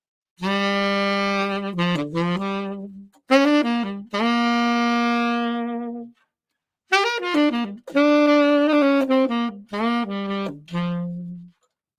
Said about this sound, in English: this time on a tenor saxophone.